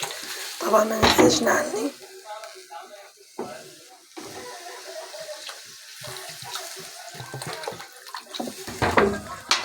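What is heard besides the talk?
pouring water into a pot of rice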